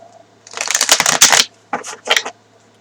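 Crisp riffling of a deck of tarot cards being shuffled close up, two quick bursts of flicking with a short pause between them.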